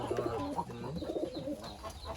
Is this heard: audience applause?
no